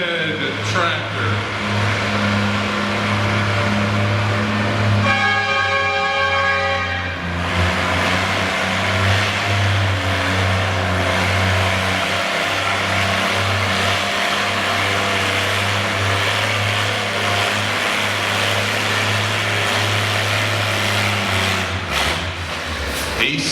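A classic red tractor drags a green sled down the track at a tractor pull, its engine roaring loud and close with a steady deep drone for over twenty seconds, briefly rising in pitch early on, with crowd and announcer voices beneath.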